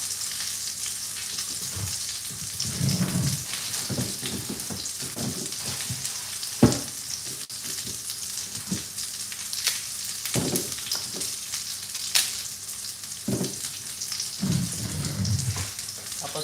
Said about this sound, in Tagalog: Tapos habang pinafry natin to